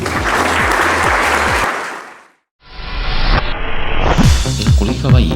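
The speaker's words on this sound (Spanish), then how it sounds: "nuestro querido director Federico Machaca, para el cual yo les pido un fuerte aplauso." Loud applause from a crowd at a school anniversary event fills the room, cuts out briefly, then resumes with clapping and cheering.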